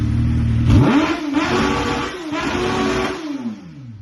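A Suzuki GSX-R1000 K9 sport motorcycle engine idles, then revs sharply twice, the pitch climbing and falling, loud and close with no talking.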